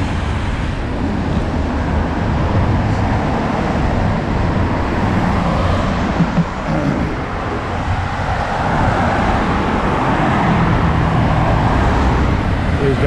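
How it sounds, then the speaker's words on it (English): Steady street traffic in Cancun, Mexico, with a car passing along the roadway, a continuous broadband road roar at close range, with a voice speaking over it. "Damn car's coming."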